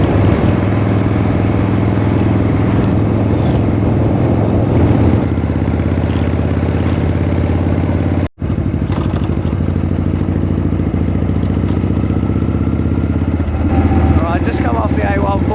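A motorcycle rides along the A143 in strong, gusting wind, with a loud, continuous rumble of engine and wind buffeting that briefly cuts out once before resuming.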